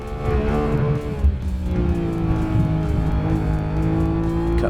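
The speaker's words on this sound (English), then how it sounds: "Engine just screams down through 7 here." A 2018 Porsche 911 GT3 Touring screams at high revs on a race track, a loud, close engine wail that holds and shifts pitch through a corner.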